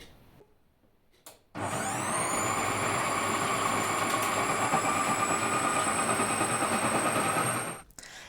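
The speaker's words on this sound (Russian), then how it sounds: "Запускаем первую скорость и начинаем шинковать капусту." Electric shredder slicing cabbage at first speed, a loud steady whining motor hum that switches on abruptly after quiet and runs continuously for several seconds before stopping.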